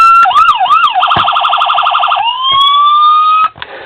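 A loud, close electronic police siren from a 1:27 Chevy Silverado Michigan Conservation Police diecast model truck cycles through wailing and rapid yelping patterns, then a long rising tone, cutting off abruptly near the end.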